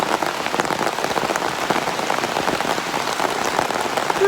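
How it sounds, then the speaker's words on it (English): Torrential rain pouring down outdoors in Scotland, a dense, loud, continuous hiss of drops hammering surfaces with no pauses. "This is crazy, this is torrential rain."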